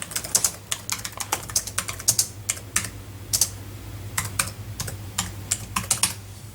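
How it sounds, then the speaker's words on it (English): Typing on a computer keyboard, close-up, in irregular bursts of key clicks with brief pauses over a low steady hum, no voices. "Oh, I mean typing."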